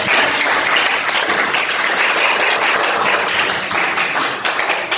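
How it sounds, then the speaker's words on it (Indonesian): Loud, dense applause in a school setting, many hands clapping in a steady continuous wash that stays close and strong for the full five seconds. "berikan dulu tepuk tangan untuk"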